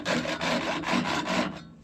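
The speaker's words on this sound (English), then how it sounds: "Where's the sawzall?" Sawzall reciprocating saw cutting on a cotton stripper in a field, a loud rasping back-and-forth buzz pulsing in steady strokes for under two seconds before cutting off, close and without talk.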